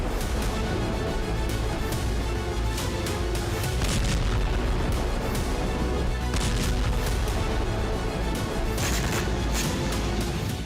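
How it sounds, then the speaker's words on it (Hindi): Attacks on the Syzran oil refinery in Samara, Russia, with dense, continuous rumbling blasts and sharp cracking bursts repeating through the whole stretch, loud and without speech. "धमाके से रिफाइनरी में भीषण आग लग गई।"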